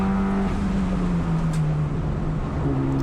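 A Mitsubishi Evolution engine accelerates hard around the Thunder Hill East race track, a loud close-up drone that climbs steadily in pitch and steps up again near the end, with no voices.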